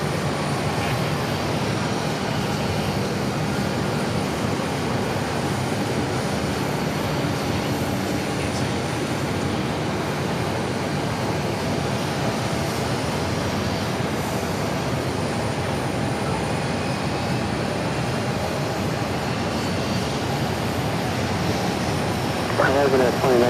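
An Embraer E135 regional jet, once flown for Continental Express and United Express, idles on an airport taxiway. Its engines give a steady broadband roar at middle distance that holds level for the whole stretch, with no voices over it.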